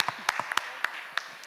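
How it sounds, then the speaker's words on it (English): A short burst of scattered audience clapping greets the cast and crew of the film Kanguva at an event, the separate claps sounding sparse and uneven as the applause fades out. "please welcome all of them with another round of applause"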